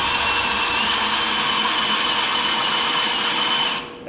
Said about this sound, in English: you don't want to be cutting away the pilot, you want to be drilling the hole